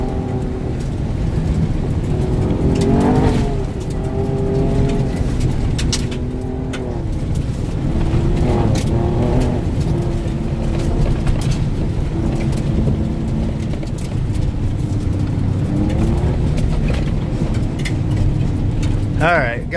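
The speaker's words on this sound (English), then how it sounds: "Freaking truck just floats when you get it up to speed." A 2018 Ford Raptor pickup runs fast along a dirt trail in Death Valley, giving a loud, continuous roar of engine and road noise with gently rising and falling engine tones throughout.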